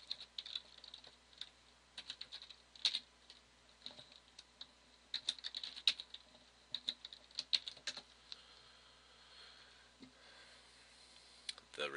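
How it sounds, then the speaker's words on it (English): Keys on a computer keyboard clack in quiet, irregular bursts as a password is typed, with soft, close clicks separated by short pauses in an otherwise hushed room. "And then the password that I retrieved earlier, I'll type in."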